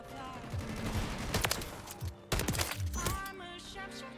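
Lockwood shotgun blasts in Call of Duty, several sharp close shots spaced irregularly with loud reports and brief echoing tails over ongoing game background noise.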